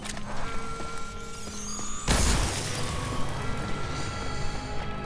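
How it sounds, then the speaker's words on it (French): A grenade explodes in the shooter game Wolfenstein: Youngblood, one sudden loud boom landing partway through amid dense, continuous game music and effects. "j'ai lancé une grenade"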